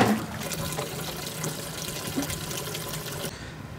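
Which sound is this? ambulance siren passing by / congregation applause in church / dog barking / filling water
filling water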